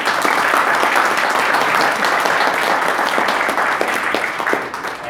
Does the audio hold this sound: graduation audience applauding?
yes